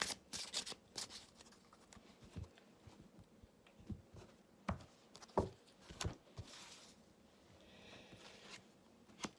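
Oracle cards drawn one after another from a deck during a zodiac Earth-signs reading, giving soft, close papery slides, flicks and taps in scattered bursts against a quiet room.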